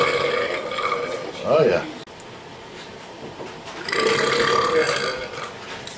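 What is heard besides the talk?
burping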